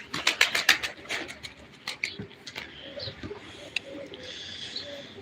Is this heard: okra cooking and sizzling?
no